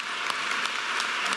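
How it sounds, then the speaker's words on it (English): Audience applause at a university undergraduate awards ceremony, a steady dense wash of clapping across the whole short stretch with no talking over it. "So, applause to them."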